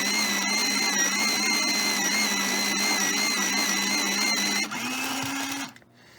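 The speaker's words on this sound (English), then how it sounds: "If you're wondering what sharpener I am using an AFMAT, electric or battery operated automatic pencil sharpener" An AFMAT electric battery-operated automatic pencil sharpener grinds a pencil with a steady, loud whir that shifts pitch near the end, then cuts off abruptly into silence.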